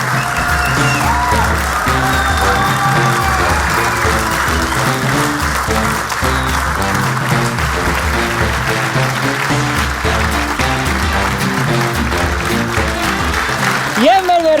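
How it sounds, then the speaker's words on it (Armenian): A studio audience at an Armenian evening talk show applauds a guest's entrance, with loud, sustained clapping over music and a host's voice throughout. "Բարձր ծափերով դիմավորում ենք"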